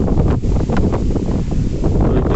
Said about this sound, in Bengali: বাতাস কিন্তু প্রচুর দমকা হওয়া একদম